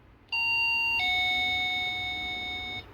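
A wireless doorbell plugged into a power adapter sounds a clear two-tone electronic ding-dong chime, the second tone ringing and sustaining for nearly two seconds before stopping, close and alone.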